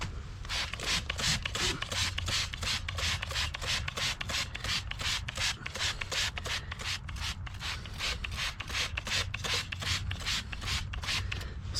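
Rhythmic back-and-forth scrubbing of 40-year-old brake dust and grime off a car hubcap on a supercharged Pontiac 6000 wagon, a steady, close, fast stroke pattern that continues without pause and without talk.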